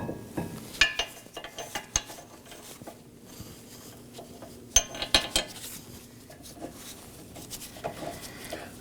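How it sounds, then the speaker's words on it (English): Caliper bracket bolts being hand-threaded with a socket and extension during a rear brake job on a 2018–2024 Chevrolet Equinox: faint metallic clicks and light taps, scattered irregularly with quiet gaps between them. "I'm just hand threading it on with my socket and extension."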